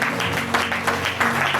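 Church congregation applauding together, a steady dense wash of clapping with slight swells, heard alone without talk.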